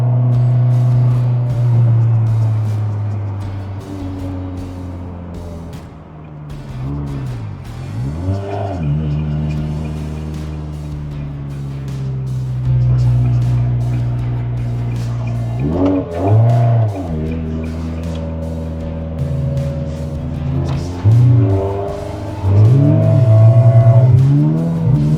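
A loud Ferrari 360 Spider engine with a 6-speed manual drones steadily while driving, with repeated revving surges and gear-change swoops rising and falling throughout.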